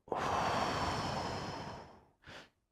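A single deep breath taken during a breathing exercise: a long, close, airy exhale that slowly fades over about two seconds, followed by a brief, softer intake of breath.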